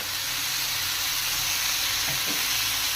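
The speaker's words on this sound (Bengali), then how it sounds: "এবার আমি কেটে রাখা টমেটো কুচিগুলো দিয়ে দেবো। এর সঙ্গে কিছুটা হলুদ অ্যাড করব।" Chopped tomatoes, turmeric and ground spice paste frying in a pan, a loud, steady broadband sizzle close by with a faint stirring scrape partway through and no talking.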